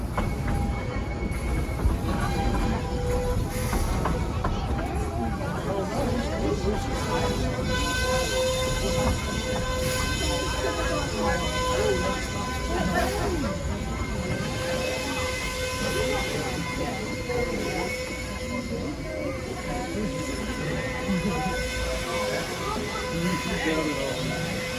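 A train runs along rails with a continuous rumbling and clattering roll, fairly loud and steady throughout, with voices talking over it.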